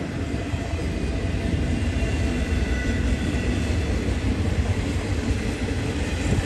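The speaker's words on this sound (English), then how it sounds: "on the right, we've got a nice Z train there" A heavy BNSF eastbound Z freight train rumbles past nearby at Keenbrook, California, a steady loud low roar with rolling rail noise running the whole way through.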